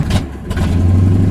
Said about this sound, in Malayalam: അടുത്ത ദിവസം രാവിലെ ആനയും ഉറുമ്പും ബൈക്കിൽ ഊട്ടിക്ക് പോയി